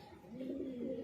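Pigeons for sale give a soft, low coo, a single brief murmuring call heard quietly and close by.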